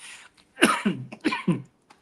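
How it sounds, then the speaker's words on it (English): A person coughs four times in quick succession, close and fairly loud, with short pauses between the harsh bursts. "It's making me cough."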